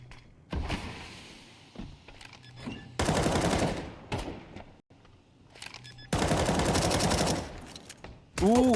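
Automatic rifle sprays in Counter-Strike, two long sustained bursts of rapid gunfire, loud and close, among scattered single shots, footsteps and game effects.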